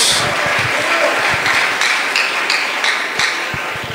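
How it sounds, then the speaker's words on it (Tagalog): A church congregation at a Sunday worship service applauding loudly, a sustained wash of dense clapping with some sharper individual claps standing out, holding steady for several seconds before easing slightly. "Malakas na palakpak para sa ating dakilang Diyos."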